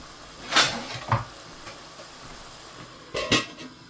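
A lid clinks onto a pan of bafelli cooking on a gas stove. Two clusters of sharp metallic clatters stand out against a faint background hiss.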